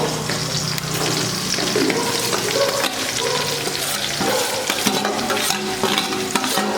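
Chopped onions frying in hot oil for a bachelor-style potato kurma, a steady dense sizzle with stirring scrapes throughout, close and fairly loud with no talking.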